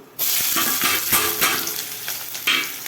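Onions hit hot oil and burst into a loud, steady sizzle, with bursts of stirring and crackling as they fry.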